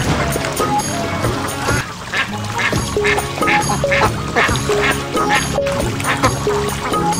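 A flock of domestic ducks quacks loudly and continuously at close range, released onto water through a gate, calls overlapping in a dense, busy chorus.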